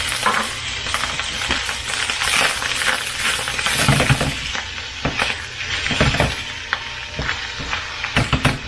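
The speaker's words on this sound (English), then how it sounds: "And I want to saute this around until it gets mixed good and warm." Leftover fajitas and vegetables are stirred around in a hot pan, giving a steady sizzle under repeated scraping and clattering of the utensil against the pan, close and busy throughout.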